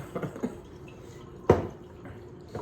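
Water seeping through a coffee filter gives a few soft, sparse drips, with one sharper, louder drop midway through an otherwise quiet moment.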